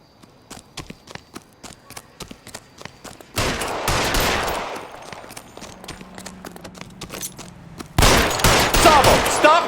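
Gunfire in the L.A. Noire video game: a run of sharp single shots in quick succession, then two loud dense bursts of overlapping gunfire, near and forceful.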